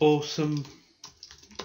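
Computer keyboard typing: a short spoken word opens the moment, then a few light, scattered keystroke clicks follow at close range after a brief pause.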